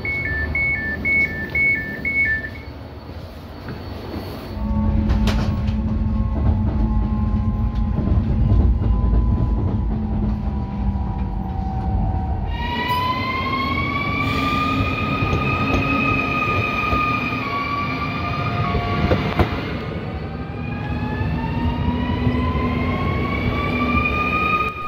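A train on the Riga–Tukums line near Priedaine in Jūrmala, Latvia, rumbles steadily from inside the carriage for a long stretch. A rising electric motor whine and occasional rail clatter sit over it, with no talk.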